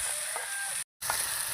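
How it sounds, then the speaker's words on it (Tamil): Chopped tomato and onion sauté in a pan in a village kitchen, giving a soft, continuous close sizzle with a brief dropout midway. "அடுத்த பொடியாக தக்காளி வெங்காயம் போட்டாச்சு. பச்சை வாடை போற வரைக்கும் நல்லா வதக்குங்க."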